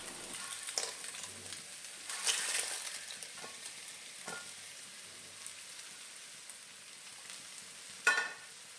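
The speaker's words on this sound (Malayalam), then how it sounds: "നമ്മൾ വറുത്ത് വെച്ചിരിക്കുന്ന പപ്പടം ഞാനിതിലേക്ക് ഇട്ട് കൊടുക്കുന്നുണ്ട്" Fried papad tossed into a frying pan for a papad mezhukkupuratti stir-fry, giving a steady sizzle with stirring scrapes and louder bursts near the start and end.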